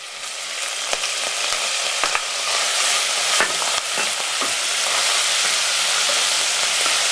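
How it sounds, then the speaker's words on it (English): Bacon frying in hot butter or oil in a large saucepan gives a steady, dense sizzle throughout, with a few louder crackles and pops, close up and with no voices. "heat your butter or oil in a large saucepan until it's quite hot, and then add the bacon"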